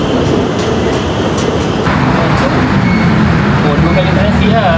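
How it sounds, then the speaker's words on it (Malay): An MRT train in Bangkok rumbles past as a loud, continuous rolling roar with rising mechanical tones, while people talk over it. "korang tengok tu ada nampak view kereta api kat situ"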